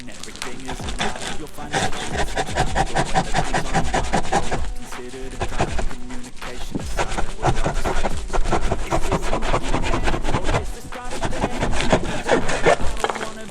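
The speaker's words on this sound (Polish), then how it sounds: "Do tego użyję tej ręcznej piły." Hand saw cutting through wood for a bird feeder's floor, a steady run of close, rasping back-and-forth strokes with only brief pauses throughout.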